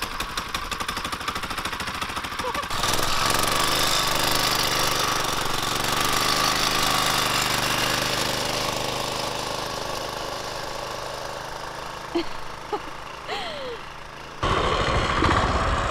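A 6.5 HP small gasoline engine powering a tandem cruiser bike, a steady loud rattling drone that runs throughout with a brief dip and sudden rise near the end, no talk heard.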